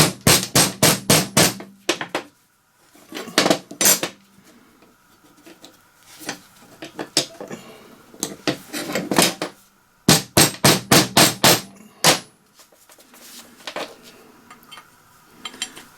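Metal hammer taps drive bearings into place on a Hayter 479 series mower deck during a blade brake and belt bearing repair; sharp, loud knocks come in quick clusters of several strikes, separated by short pauses and faint handling noise.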